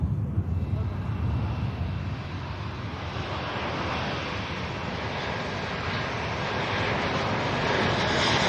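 An airliner arriving from Bratislava rolls in at Manchester Airport, with a continuous jet engine roar that swells slightly toward the end and no talking.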